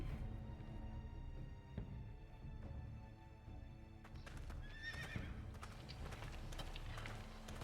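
Horse in a Game of Thrones video game neighs and whinnies over steady clip-clopping hooves, close and fairly loud, with a busy background underneath.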